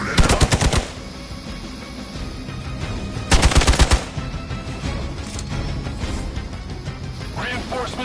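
Rapid machine-gun style bursts from the video game Marvel's Midnight Suns ring out in two loud volleys, separated by quieter battle ambience and game music, with brief character voices in between.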